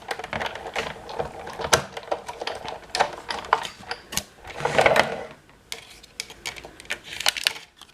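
A die-cutting machine presses a plate through card, giving a busy, close run of rattling mechanical clicks and clatter with a denser, louder stretch midway.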